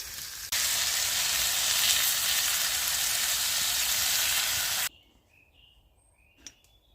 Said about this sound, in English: now just fries in the bacon grease